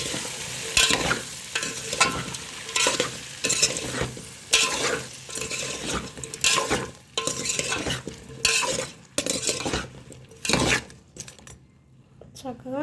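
Drumstick, onion and tomato pieces for sambar sizzle in a pan while a spoon scrapes and clinks as they are stirred, in irregular bursts with a quiet voice speaking in between.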